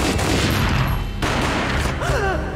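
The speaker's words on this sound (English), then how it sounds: "A gunshot boomed and she fell down in slow motion." Gunfire from the video game Max Payne: dense, loud bursts of shots and booms fill the whole stretch with no pause, with a brief tonal whine near the end.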